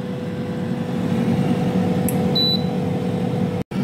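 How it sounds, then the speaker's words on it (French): An air fryer runs with a steady fan hum, and a short electronic beep sounds near the end as cooking finishes, followed by a sudden cutoff. "Voilà, la cuisson est terminée. Vous avez un bip sonore."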